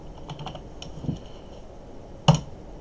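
A few sparse keystrokes on a computer keyboard, typing a short command, with light scattered clicks and one sharper tap near the end, faint and close, no talk.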